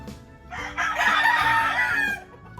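A rooster at a backyard breeder's in Lipa, Batangas crows once, loud and close, a long drawn-out call over a low steady background hum.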